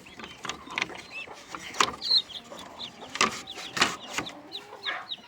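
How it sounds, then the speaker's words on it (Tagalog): Heritage chickens on a farm give scattered, irregular clucks and short squawks close by, with brief clattering and mechanical sounds between them. "Yun yung mga heritage ko na manok."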